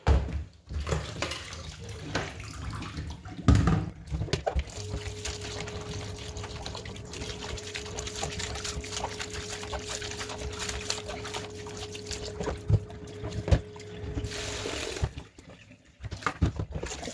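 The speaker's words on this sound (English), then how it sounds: "I'm just going to continue repeating the same thing until you see that our beans is well washed." Beans being washed by hand in water in a bowl, with splashing, swishing and pouring sounds close by, a faint hum running under the middle stretch.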